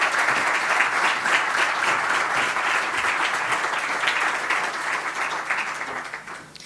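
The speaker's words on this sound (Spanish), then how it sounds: "un fuerte aplauso para Lourdes" Loud, sustained applause from an audience at a women-of-the-sea event at Museo do Mar de Galicia, a dense steady roar of clapping hands that thins and fades away at the very end.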